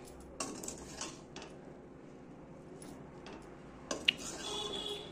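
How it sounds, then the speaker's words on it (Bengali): Boiled chow mein noodles tossed in a pan with vegetables and masala, a spatula scraping and clanking against the metal in a couple of sharp bursts with quiet stirring between, close by and without any talking. "এটাকে ভালো করে নেড়ে চেড়ে নেব"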